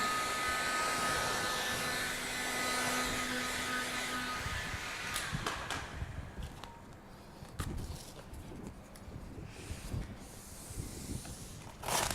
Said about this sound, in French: Je vais utiliser le pistolet thermique pour enlever ces plis et tendre le vinyle